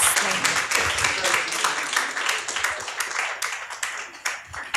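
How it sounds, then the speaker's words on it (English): An audience at an evening talk with dancers gives a round of applause, a lively patter of individual claps that stays fairly close and thins out toward the end, with a voice briefly audible. "Maybe have a round of applause."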